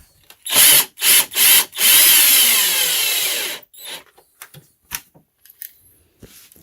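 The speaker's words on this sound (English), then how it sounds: "I'm going to go ahead and screw it down." A power drill drives screws into a panel of an ESB Sunsplash 10 tanning bed during repair: three short whirring bursts, then one longer steady run, followed by faint clicks and handling noises.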